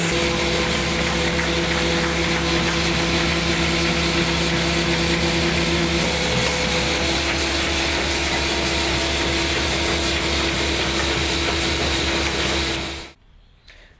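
An AccuCreaser creasing machine with an air-fed Beckert pump runs and feeds sheets, a loud steady mechanical whir and hum with tonal drones that continues for about thirteen seconds before cutting off abruptly.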